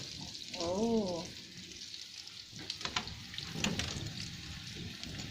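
Banana blossom (puso ng saging) sizzles in a pan with a faint, steady frying hiss under a few soft clatters, while a voice briefly sounds over it early on.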